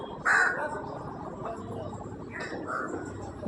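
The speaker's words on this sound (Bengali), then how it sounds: "দেখো এই কাকটা রোজ আসবে বিস্কিট খেতে" A crow caws once, loud and close, then a few softer calls follow against a steady outdoor background of low noise.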